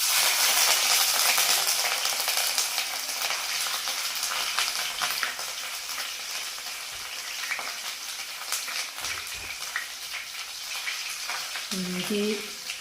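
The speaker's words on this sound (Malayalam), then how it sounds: "ഇനി നമുക്കിതിലേക്ക് ഇഞ്ചി ഇട്ട് കൊടുക്കാം" Chopped ginger sizzles in hot oil with crackled fenugreek seeds in a pan for a Kottayam-style fish curry, a bright steady frying hiss with occasional stirring clinks, fading slightly over time.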